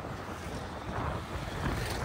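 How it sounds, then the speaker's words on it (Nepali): Strong night wind buffets the microphone on the Narayani bridge at Narayanghat, a steady, loud roaring rush that swells slightly toward the end, with no voices. "मोबाइलै उडाउला जस्तो हावाले हानिरह यार।"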